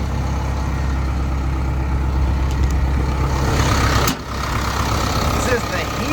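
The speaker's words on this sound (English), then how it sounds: "This is the Hino engine." A Hino diesel engine in a Kobelco 210 excavator idles with a steady, loud, low rumble throughout, close by, with a brief dip partway through and a voice talking over it.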